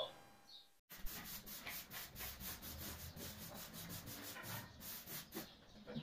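Broom sweeping loose dust off a brick wall before rendering, a close, steady run of rough scratchy brushing strokes in quick succession, heard alone after a brief pause at the start.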